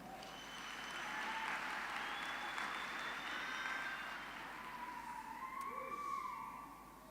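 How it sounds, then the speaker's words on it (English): Audience at a university graduation ceremony applauds a choir, a broad steady wash of clapping heard from a distance, with faint siren-like tonal sounds gliding through the background. "Can we give them a round of applause?"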